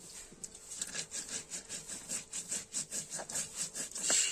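Spices and chilli powder are ground by hand on a stone shil-bata slab, with even, close scraping strokes repeating about three times a second and no one speaking.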